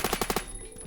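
A short burst of five rapid gunshots from a Grendel rifle in the first-person shooter Phantom Forces, loud and close, followed by a fading tail.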